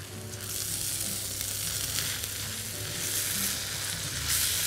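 Peas and carrots fry in a pan with a steady, close sizzle and soft crackling that holds throughout, briefly surging near the end.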